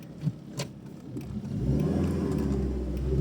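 A Tofaş Tempra 1.6 Mpi station wagon reverses: a few faint knocks give way to a low engine hum that swells and then holds as a steady, close rumble.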